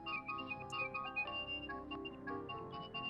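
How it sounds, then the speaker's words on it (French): A telephone ringtone rings faintly with a repeating melodic electronic tone, steady and fairly quiet throughout. "téléphone sonne"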